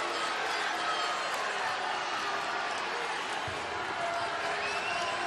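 A basketball arena crowd at a Charleston versus Oklahoma State college game roars and cheers in a steady, dense wall of noise that stays loud and unbroken throughout.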